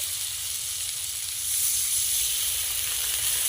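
Tomato and ginger sauté in a kadai for a vegetable khichdi, giving an even, soft sizzling hiss that grows slightly louder midway and holds steady.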